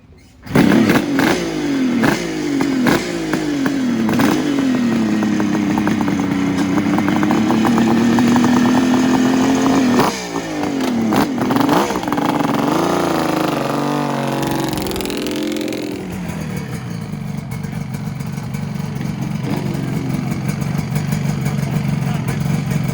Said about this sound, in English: There's a Gen 3 Busa with a Brock's pipe.